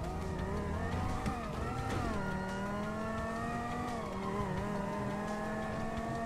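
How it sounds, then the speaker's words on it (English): A wannabe sports car in a GTA game drives along, with its engine droning steadily and its pitch rising and falling through gear changes. The sound is close and continuous. "this car sounds like something off from Saints Row"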